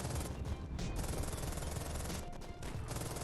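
Sustained, dense gunfire bursts fill the mix loud and close in the World War II mobile shooter Polyfield, where a bolt-action rifle fires one round per reload.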